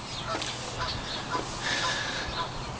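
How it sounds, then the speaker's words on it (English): A goose honks outdoors a few times against steady broadband background noise, faint and somewhat distant, with no talk over it. "Oh wow, there's a goose over there."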